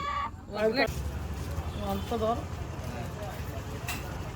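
Native country chickens cluck and a rooster calls in the background while people talk over them.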